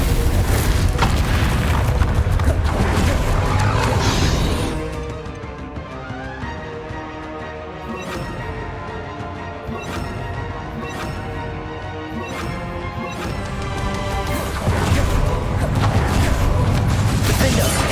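Bombarda spell explosions in the video game Hogwarts Legacy, heavy booming blasts at the start and end with a clanging, ringing combat stretch between, loud and close.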